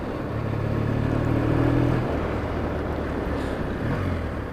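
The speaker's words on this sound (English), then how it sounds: "just slightly opening the throttle now, there's no hesitation" Triumph motorcycle engine running with the throttle opened slightly, likely while riding out: a steady low rumble with a faint rising tone, largely buried under heavy wind roar across the microphone.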